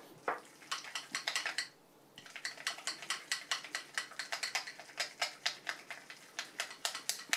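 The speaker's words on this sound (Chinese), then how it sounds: "一定要向一个方向，然后大力的来搅拌它，快速而大力的搅拌。" Pork mince is stirred fast and hard in one direction for a steamed pork patty with salted duck egg, giving quick, rhythmic clicking and slapping strokes. The sound is close and steady, with one short pause.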